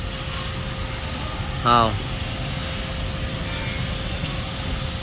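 A Yamaha Exciter 150 motorcycle with a 62zz engine and an AHM aftermarket exhaust idles with a steady, even drone, and someone speaks briefly over it.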